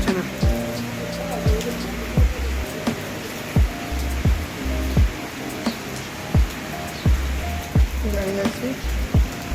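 Heavy rain pours down in a continuous broad roar, punctuated by regular, heavy low thumps, loud and close.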